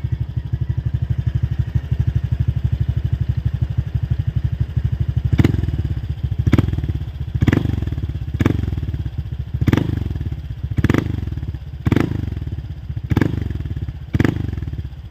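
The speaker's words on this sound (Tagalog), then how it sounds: "Paparinig ko sa inyo yung tunog ng isang Namban pipe." A motorcycle with a Thai-made Namban exhaust pipe idles with a steady low putter, then roars through a series of sharp, repeated revs, about eight throttle blips in quick succession, loud and close.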